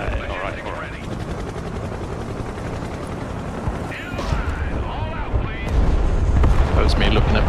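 Artillery strike in the video game Broken Arrow, a rumbling barrage of blasts and booms building louder toward the end over continuous engine-like drone, with voices talking underneath.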